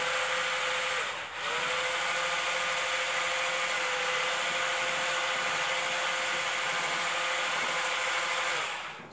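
An Arzum cordless rechargeable electric whisk runs continuously through a milk mixture, a steady motor whine with one short dip near the start, close and fairly loud with no talking.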